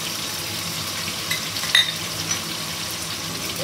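Spices frying in a hot pan as Kashmiri chili powder goes in, a steady soft sizzle with a faint scrape or clink of a spoon partway through, close and alone.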